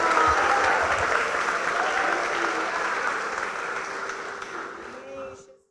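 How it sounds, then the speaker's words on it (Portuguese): Church congregation applauding together, a full dense wash of clapping that slowly thins and fades over several seconds, with faint voices underneath near the end. "Aplauda Jesus, aplauda o Senhor,"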